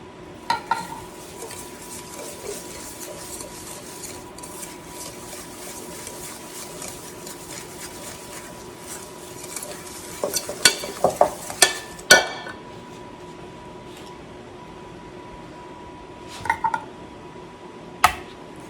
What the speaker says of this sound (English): Now to my sugar mixture, I'm going to add 1/2 cup of light olive oil.